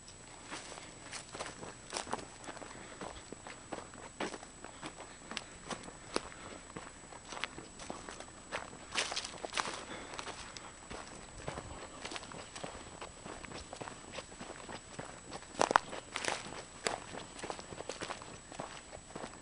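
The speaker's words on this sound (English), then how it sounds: "You can still hear faint traces of its footsteps." Faint footsteps of a wolf moving through a dark forest, soft irregular padding and rustling under steady background noise, fairly distant and quiet.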